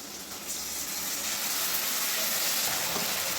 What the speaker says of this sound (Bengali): এর মধ্যে এবার টমেটো দিয়ে দিচ্ছি।